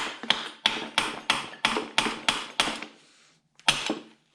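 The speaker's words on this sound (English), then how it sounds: "You can loosen them all up with a rubber mallet." A rubber mallet strikes bolts on a John Deere 318 garden tractor differential, eight sharp, evenly spaced knocks, a pause, then one more blow, close and dry with no voices.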